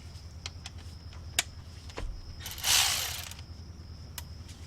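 Ratchet clicking as it loosens the 14 mm brake caliper bolts on a 2014 Chevy Malibu, a few sharp metallic ticks and clacks up close, with a brief hissing burst in the middle.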